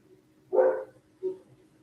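Dog gives two close barks, one full bark followed by a shorter, softer one, against a quiet background.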